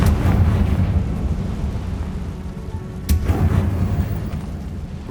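A Confringo fire spell explodes in Hogwarts Legacy inside the Feldcroft catacomb, making a loud, deep rumbling blast that carries on through the clip, with a sharp crack partway through.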